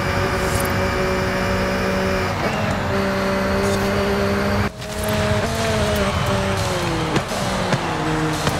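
A McLaren Artura with semi-slick tires accelerates in Forza Horizon 5. The engine drones loud and steady, and its pitch climbs and drops with repeated gear shifts throughout.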